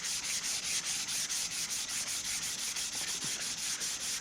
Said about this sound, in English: I will finish it off with some good old-fashioned hand sanding.